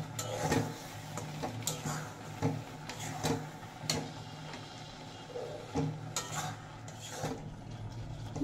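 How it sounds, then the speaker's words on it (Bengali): Cardamom seeds stirred into a papaya mixture in a pan, with soft repeated scraping and tapping strokes of a spatula at an uneven rhythm, close and fairly quiet. "এবার হাফ চামচ এলাচের দানা দিয়ে দিলাম, দিয়ে ভালো করে এইভাবে নাড়াচাড়া করতে থাকবো"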